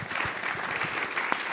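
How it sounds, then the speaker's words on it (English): A forum audience applauds the panelists in a brief, dense burst of clapping, steady and fairly close, with no speech over it. "please join me in a round of applause for our panelists"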